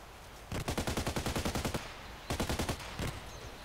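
Automatic gunfire in the Contract Wars shooter game on the Old Sawmill map, two rapid bursts of evenly spaced shots at moderate level, the first longer, followed by a single shot, no talking.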